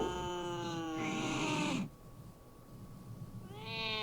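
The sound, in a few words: angry cat yowling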